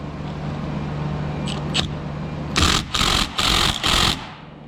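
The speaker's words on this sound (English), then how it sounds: "Next, we're going to go ahead and remove our caliper bolts right here and here." T55 Torx caliper bolts, seized tight, being removed from the front brakes of a Chevy Silverado with a power tool, several loud, close bursts of whirring after a steady background hum, with no talking.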